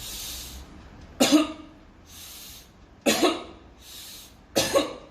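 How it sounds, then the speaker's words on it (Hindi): Three forceful coughs, evenly spaced about every 1.7 seconds, expel mucus from the lungs during post-Covid-19 breathing exercises, each separated by a soft, breathy inhale. "आपके सेंट्रल एयरवे में जो भी बलगम आ गया वो आप खांस के निकाल देते हो"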